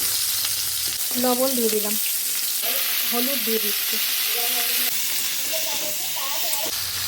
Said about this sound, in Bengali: ফুলকপি মাছটা লাল করে ভেজে নিচ্ছি